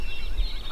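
Wild spring turkey gobbling on public land at first light, a single short rattling gobble heard faint and distant.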